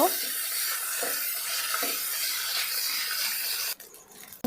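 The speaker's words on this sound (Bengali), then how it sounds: "একটু তেল দিয়ে শীতল শুটকিটি ভালো করে ভেজে নিব।" Dried sidol shutki fish frying in a little oil, a steady hiss of sizzling with occasional stirring scrapes, close and continuous before dropping away near the end.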